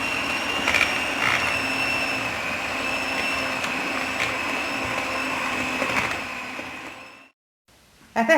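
Electric hand mixer beating chocolate cake batter of margarine and cocoa for a Kabyle snail cake, a loud steady whirring drone with a faint pitched whine that runs for about seven seconds, then cuts off and briefly restarts.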